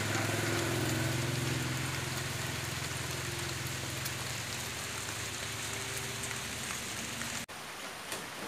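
Steady rain falls on an outdoor site in the Mekong Delta countryside where a homemade sheet-metal boat is being built and painted. It makes a dense, even hiss with a low rumble beneath it and drops off abruptly near the end.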